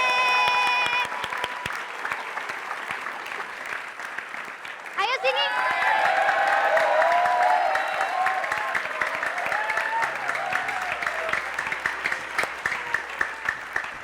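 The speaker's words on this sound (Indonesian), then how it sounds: "Kalau segar tepuk tangan dong. Hore!" Several people clap their hands in a brief, bright burst of applause, then voices and a cheer take over amid lively chatter and scattered claps, close and fairly loud.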